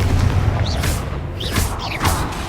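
Fire spell explosions cast in the Hogwarts Legacy video game, a few short booming bursts about half a second apart over a steady low rumble of game sound.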